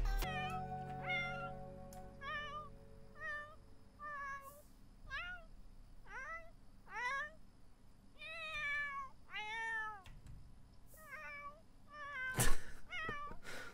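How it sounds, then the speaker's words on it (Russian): An adult cat meows repeatedly and close by, a series of about a dozen distinct, rising-and-falling cries spread evenly over several seconds, with a soft thump near the end and no talk. "Взрослая кошка"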